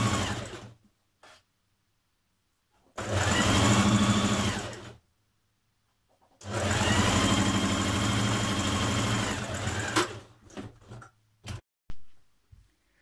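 A sewing machine stitches a dress shoulder seam at 1.5 cm seam allowance, running in two separate bursts of steady whirring, each a few seconds long, with quiet pauses and small handling clicks between and after.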